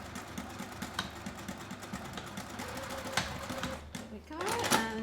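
A sewing machine stitches a bag seam in quick, even mechanical bursts, running steadily up close and briefly pausing before starting again, with a voice talking over it.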